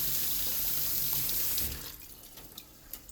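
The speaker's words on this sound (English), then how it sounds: "let me go ahead and I'm going to come in here, rinse it off real quick" A running kitchen tap splashes over a chocolate pepper being rinsed, then shuts off into faint drips and light handling noises.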